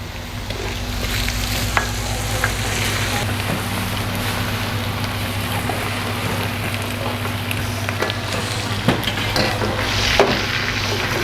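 Chili sauce goes into garlic frying in a pan, giving a steady close sizzle with occasional stirring knocks and scrapes and a low background hum.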